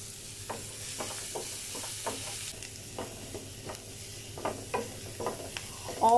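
Vegetables being stirred and sautéed in a pan with a little salt for a bread pizza topping, soft sizzling under repeated scraping strokes that grow busier toward the end.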